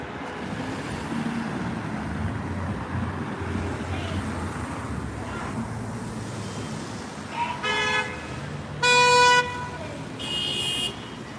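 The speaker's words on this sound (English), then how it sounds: "A little bit of traffic going on over here." Evening city street traffic in Washington, D.C., a steady low roadway rumble broken late by several sharp car horn toots, one long and loud, close by; no talk over it.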